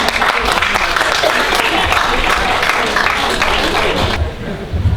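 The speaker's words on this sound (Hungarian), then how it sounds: "fogadják nagy szeretettel és sok-sok tapssal a színpadon a Mogyoszlói Néptánc Egyesület" Loud, dense applause from an outdoor village-festival audience greets a Hungarian folk dance association taking the stage, steady clapping sustained throughout before thinning slightly at the end.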